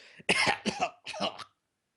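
Two or three short, breathy coughs in quick succession, close and fairly quiet, followed by silence.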